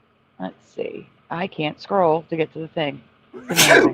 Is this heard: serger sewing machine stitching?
no